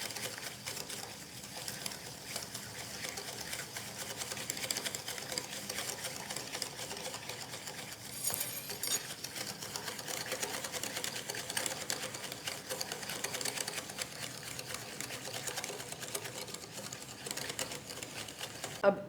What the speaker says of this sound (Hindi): मैं विस्क की मदद से अच्छी तरह से इसको बीट कर लूँगी।